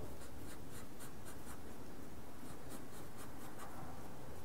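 A pen or marker draws a curve on a board in a quick run of short scratchy strokes that squeak and rub, close and steady, with no voice over them.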